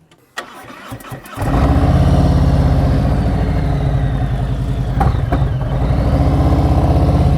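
A motorcycle engine during slow speed riding practice starts and settles into a steady, close, loud running drone, with a brief throttle blip near the end and no talk.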